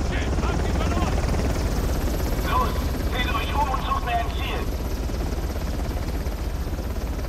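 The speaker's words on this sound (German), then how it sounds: "Aber da kommt der Heli jetzt hin, ne?" A helicopter in Uncharted: The Lost Legacy drones steadily in a continuous low rotor rumble, with brief higher game sounds over it and no clear talk.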